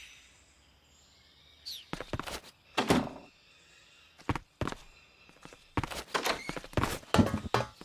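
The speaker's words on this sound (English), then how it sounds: "Footsteps." Footsteps in Metal Gear Solid 3 sound as sharp, heavy thuds in irregular bursts after a quiet start, some close together and some spaced apart, with no talk.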